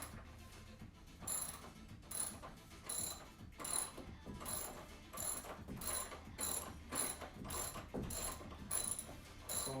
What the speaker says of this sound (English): what you'll need then is your 5/8 ratchet, and you'll need to take off the